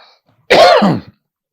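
A single short, throaty cough, close and fairly loud, following near silence.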